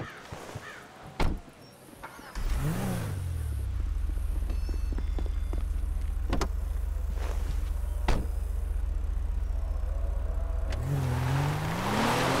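A car in Grand Theft Auto 5 starts up after a few knocks and clicks, then holds a loud, steady engine drone as it drives, rising again in pitch near the end.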